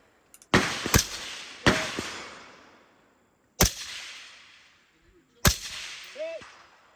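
Loud, sharp Mk12 rifle gunshots at an outdoor DMR match, four separate reports spaced unevenly across several seconds, each with a short echoing tail; a faint voice can be heard briefly between shots.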